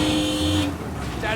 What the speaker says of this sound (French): je vais klaxonner un flic en vrai.